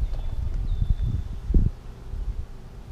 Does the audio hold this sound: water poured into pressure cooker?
no